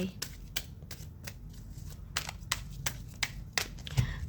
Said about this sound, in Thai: ขออนุญาตสับไพ่หลังกล้องนะคะ